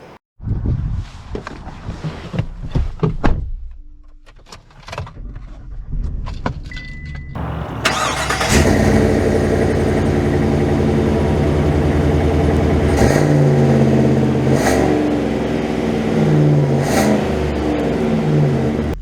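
A 2023 Chevy Silverado HD pickup with the 6.6L gas V8 starts after several seconds of quiet cabin handling sounds, then settles into a loud, steady, close idle.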